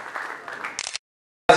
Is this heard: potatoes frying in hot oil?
no